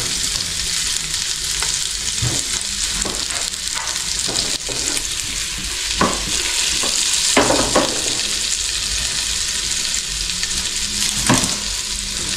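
Onions sautéing in a hot pan for kabsa, a loud continuous sizzle broken by scraping stirs and a few sharp clatters, close up with no talking.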